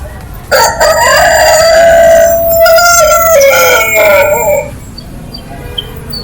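A rooster crows once, loud and close, a long drawn-out call with a rising start and a wavering tail, then quiet background noise.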